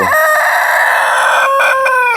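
A farmyard rooster lets out one long, loud crow close by, held steady for about two seconds with a slight wavering near the end.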